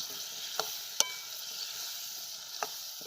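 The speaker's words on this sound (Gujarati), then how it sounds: "ગુંદાને પણ આપણે થોડી વાર તેલમાં સડવા દઈએ" Gunda fry gently in oil with onion and tomato, giving a soft, even sizzle punctuated by a few sharp pops and clicks.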